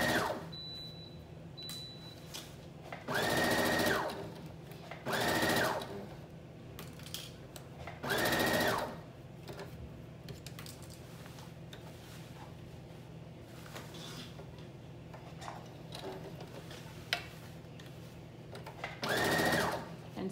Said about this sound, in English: we're going to sew all the way around. The neckline.